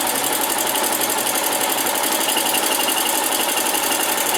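A sewing machine stitches down quilt binding, its motor running in a fast, steady, unbroken mechanical whir up close, with no voices.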